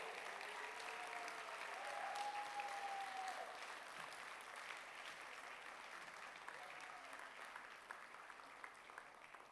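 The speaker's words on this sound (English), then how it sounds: "Please give a big round of applause" An audience at the IIS 2023 welcome event applauds steadily for Vicky Roy, a broad sustained clapping that holds for the full stretch with a few faint voices rising over it and the noise easing only slightly toward the end.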